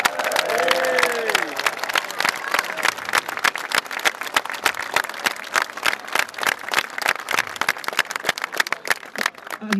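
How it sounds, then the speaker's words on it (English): A large crowd applauds at a football victory parade, steady dense clapping with sharp close claps standing out, while a voice briefly carries over the start. "Let's have another round of applause for Maxim"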